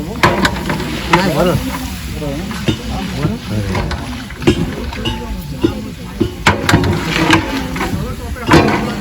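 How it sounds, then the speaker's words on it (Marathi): Village-style goat mutton is stirred through onion, garlic and ginger masala over a wood-fired clay stove, giving loud close sizzling with rhythmic scraping strokes throughout while someone talks over it. "मटण टाकून घेतल्यानंतर या प्रकारे पुन्हा एकदा आपल्याला घाटून घ्यायचं"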